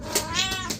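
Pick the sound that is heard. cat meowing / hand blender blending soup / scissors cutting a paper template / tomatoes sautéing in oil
cat meowing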